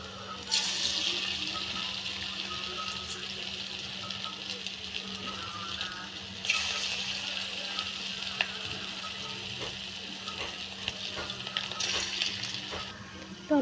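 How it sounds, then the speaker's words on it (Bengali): Sweet potato fritters are dropped one by one into hot oil, each set off by a fresh burst of sizzling over a constant low hiss, fairly quiet and close. "তো তেলটা গরম হয়ে গেছে। এবার আস্তে আস্তে আমি বড়াগুলো ছাড়বো।"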